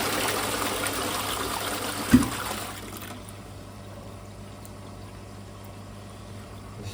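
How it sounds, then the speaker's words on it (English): A toilet flushes with a short gush, then the cistern refills with a steady, quieter trickle of running water that continues to the end. "I'll just flush it."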